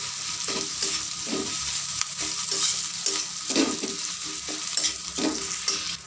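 Ginger and fenugreek pastes stirred into capsicum frying for a pickle-style dish, a steady sizzle with rhythmic spatula scrapes about every half second, close and alone.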